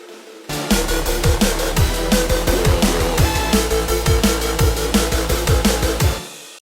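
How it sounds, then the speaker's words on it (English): A full music mix with a punchy kick-driven beat and dense synths, washed in reverb that blurs the tail as it fades out. "is just adding in some reverb"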